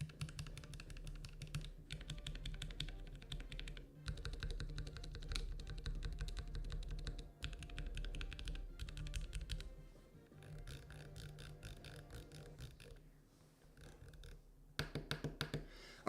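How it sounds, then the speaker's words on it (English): Computer keyboard keys pressed one by one and then mashed rapidly for a sound test, a dense run of clicky taps with brief pauses, loud and close, with no talking. "I'll just like spam some of the buttons so you can hear it like that"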